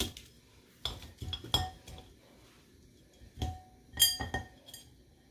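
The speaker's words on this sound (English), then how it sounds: "I'm just going to use these shears to chop this bacon up" Kitchen shears snip through cooked bacon in a few sharp, irregular cuts, each a quick metallic clink and scrape, close and clear with quiet gaps between.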